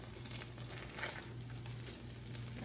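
Salisbury steak patties sizzling in a frying pan just after flipping, a steady close crackle and hiss with a low hum underneath and occasional brighter pops.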